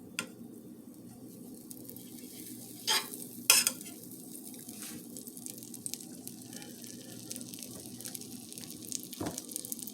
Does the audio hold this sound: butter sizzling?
yes